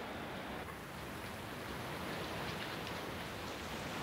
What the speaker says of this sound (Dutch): Nu regent het. Prachtig geluid.